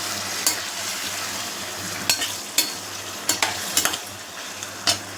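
Ingredients for jackfruit biryani sautéing in a pan: a steady close sizzle with a low hum beneath, broken by a handful of sharp spatula taps and scrapes.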